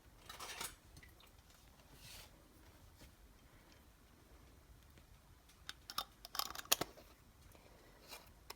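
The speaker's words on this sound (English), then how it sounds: "So now we're going to put lids and rings on these." Metal lids and screw rings going onto six jars of freshly filled cranberry sauce, giving faint, sparse clinks and scrapes in a quiet room, with a short cluster of sharper taps near the end.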